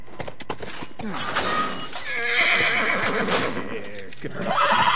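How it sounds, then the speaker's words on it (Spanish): Horse neighing and whinnying in The Last of Us, a loud, drawn-out call over layered game sound with some clip-clop hooves, while voices talk over it. "Quédate con el caballo."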